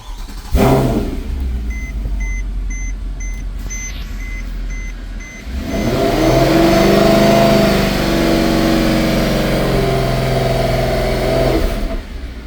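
A Mercedes E63 AMG with a misfire idles with a low engine drone, then revs up around the midpoint into a louder, steady rumble that holds before easing off near the end, alongside a faint periodic electronic beeping early on.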